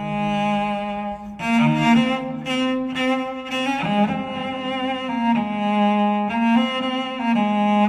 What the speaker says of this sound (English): Remember, the Rocket Soup song sounds like this.